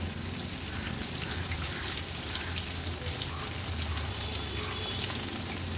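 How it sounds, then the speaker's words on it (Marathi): Pieces of big khapri pomfret frying in oil over a high gas flame give a steady, dense sizzle and crackle, close and continuous with no voices. "पलटवण्या अगोदर गॅसची फ्लेम मी थोडी हायवर करते आणि अगदी अर्ध्या मिनिटासाठीच हाय फ्लेमवर ह्यांना असंच तळून घेते"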